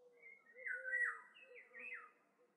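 Cartoon birds in a forest, a short run of clear whistled chirps and rising-falling tweets, close and bright against silence, with no talking.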